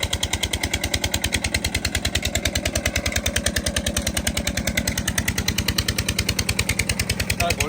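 A farm engine running for a heater in a crop field, loud and close, with a fast, even pulsing chug that keeps going through the whole stretch.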